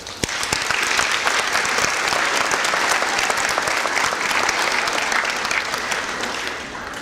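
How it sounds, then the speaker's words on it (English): A high school audience at a senior awards ceremony gives loud, sustained applause for the senior Key Club members. The dense clapping continues for about seven seconds and thins slightly at the end. "Can we please give a round of applause for the senior Key Club members?"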